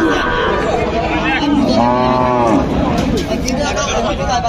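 At a busy border cattle market, a pair of bullocks are among livestock as a loud, drawn-out moo rises over a dense hubbub of crowd chatter and voices, with the animal calling close by.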